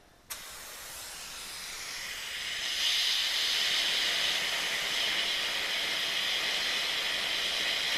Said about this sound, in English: I'm going to rinse that off.